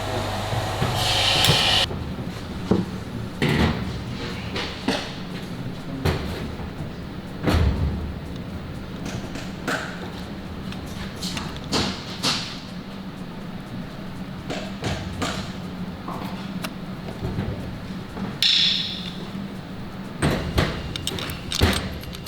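A fuel rail on a Toyota Camry V6 engine is tightened by hand tools, giving irregular metallic clicks and clanks scattered over a steady low hum, close and moderately loud.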